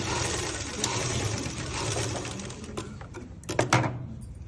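A sewing machine runs stitches through a shirt in a rapid, steady mechanical whir, close by, ending with a few sharp clicks and clacks.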